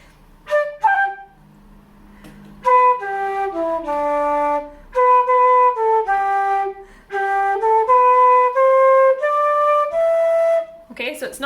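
A solo flute plays line 3 of the B part of a traditional tune, bright and close, in flowing phrases of ornamented notes broken by short breaths.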